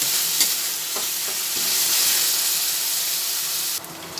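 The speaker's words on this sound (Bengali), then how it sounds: "উপরের মধ্যে হাফ চামচ আদা বাটা দিলাম সেটাও একসঙ্গে ভেজে নিচ্ছি" Ginger paste fries with a katla fish head in a pan, making a dense, close sizzle that holds steady under occasional stirring knocks and scrapes. No voices.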